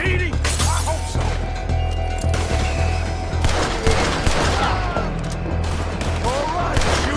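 A gunfight in Red Dead Redemption 2: loud, dense volleys of rifle and pistol shots crack in quick succession with impacts and crashes, continuous and close, with voices shouting beneath.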